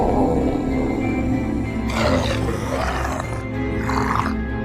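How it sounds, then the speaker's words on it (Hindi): Cartoon zombie in a hospital horror setting letting out strange, growling roar-like bursts over a steady background bed, the roars swelling in two or three rough waves. "ज़ॉम्बी जब गुल्ली बुल्ली को हथियार समेत अपनी तरफ आता हुआ देखता है तो ये अजीब अजीब सी आवाज़ें निकालना चालू कर देता है।"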